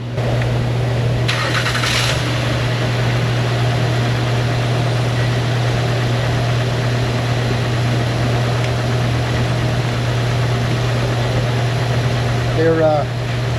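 Honda Ridgeline engine just after a timing belt and water pump job, idling steadily with a low constant hum, close and loud, with a brief rattle near the end and someone speaking over it.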